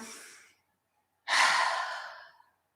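Two deep breaths during a Pilates chair workout: a short exhale trailing off, a pause, then a long, strong, breathy inhale or exhale close to the listener.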